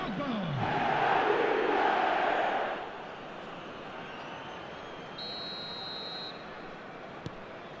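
A football video game crowd roars loudly for a few seconds, then settles to a lower steady murmur, and a brief electronic tone sounds partway through.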